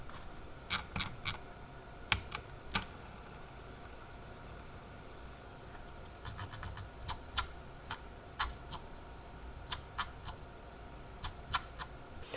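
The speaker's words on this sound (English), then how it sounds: "It's always got a little click wheel, so it just clicks, click, click, click, click, click." A computer mouse scroll wheel gives faint, close, crisp clicks in irregular short bursts and single ticks over a quiet room hiss.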